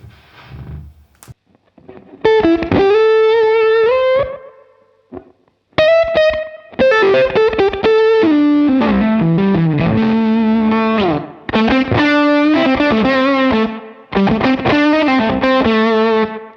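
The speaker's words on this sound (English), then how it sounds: "If we turn it all the way up, the mood knob, it doesn't get more gainy, but more fuzzy." An overdrive pedal with its mood knob turned fully up gives a fuzzy, distorted electric guitar sound, loud chords and bent notes played in bursts separated by short pauses.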